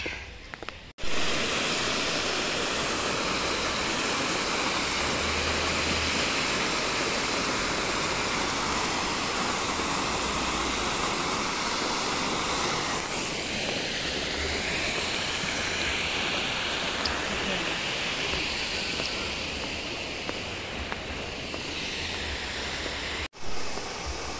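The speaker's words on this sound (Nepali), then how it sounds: "यो चाहिँ हो यहाँको पानीको आवाज" Rushing water pours steadily from a nearby stream or waterfall, a loud, unbroken broadband roar that holds constant from start to finish with no voices over it.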